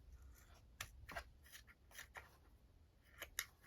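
Scissors snip off the trimmed ribbon ends on a handmade Christmas gift bag: a handful of quiet, sharp cuts spaced irregularly, close by, over faint rustling and no voices.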